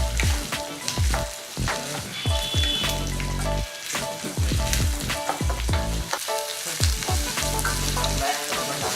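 Onion and carrots frying in a pan for upma, a loud close sizzle broken by repeated thudding, scraping stirs in an uneven rhythm.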